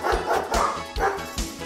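A pug barks in a quick run of four sharp yaps with short gaps between them. The barking is close and loud, with no talk over it.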